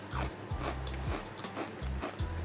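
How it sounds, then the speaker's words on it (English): Crunchy golden fried crisps, served with a Greek garlic lemon chicken pita dish, are bitten and chewed up close in a steady run of loud, brittle crunches. "And you can hear how crunchy they are."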